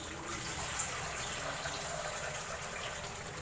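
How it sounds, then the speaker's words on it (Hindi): Yogurt-flavored water is poured from a small yogurt bowl into a pot of chicken and pea curry, a steady close liquid gush and splash running throughout without a break. "बस मैं इसमें पानी डाल दूँगी, ये दही वाला पानी ही मैं डाल दूँगी"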